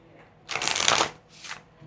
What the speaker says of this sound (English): we're going to do a big shuffle